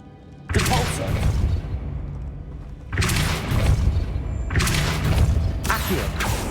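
Depulso spell cast in Hogwarts Legacy: three heavy booming bursts with a rumbling whoosh, each swelling loud and sustained before easing, spaced a couple of seconds apart, no talk.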